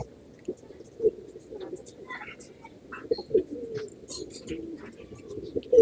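Pigeons of long-flying breeds coo repeatedly in a pet shop, soft throaty calls recurring close by, with scattered chirps and faint voices in the background.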